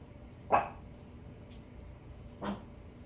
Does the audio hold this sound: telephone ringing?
no